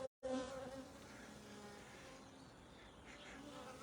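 A dense swarm of honey bees hums continuously around an open hive during a spring hive split, a close, steady buzz after a brief dropout at the start.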